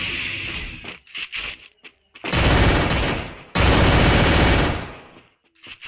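Bursts of video game gunfire during a battle-royale-style tournament fight, with clusters of sharp shots early, then two long dense roaring volleys of rapid fire, loud and close, with glassy crashing and no speech over it.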